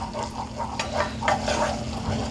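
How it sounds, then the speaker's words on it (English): A roux being whisked for mac and cheese, a steady soft scraping and stirring in a pan with a faint sizzle underneath, close and continuous. "Just kind of whisking it together."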